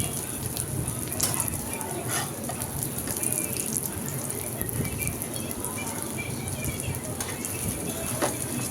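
An aloo paratha with meat filling sizzles and crackles steadily in a hot pan, a dense frying hiss that holds at an even level throughout.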